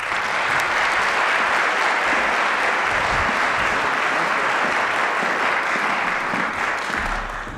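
Sustained audience applause welcoming the university president, Dr. Gerry Bradley, at the University of Louisville State of the University address, dense and steady throughout before fading slightly at the end.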